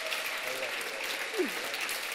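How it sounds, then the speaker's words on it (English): Steady, faint applause from a church audience at an Upper Room Q&A gathering, even clapping that carries through the clip with one brief voice rising over it. "Can we just give a round of applause for Dan?"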